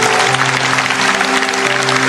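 Church congregation applauding during a sermon, a steady dense wash of clapping held over a sustained musical hum, with no talk.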